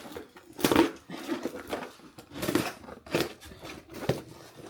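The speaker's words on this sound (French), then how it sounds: "Moi, j'ai pris une paire de ciseaux." Scissors cutting open a package, heard as several rough, scraping snips and crunches of plastic or paper at an irregular pace, fairly close.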